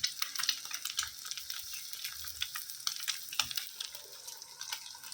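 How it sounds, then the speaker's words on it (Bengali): An egg fries gently in a pan with poppy seeds, giving soft, continuous crackling and sizzling with small pops, fairly quiet and close. "ডিমটা আধ ভাজা হয়ে যাবে, পোস্ত থাকবে, আর পোস্তটা দিয়ে দেবো।"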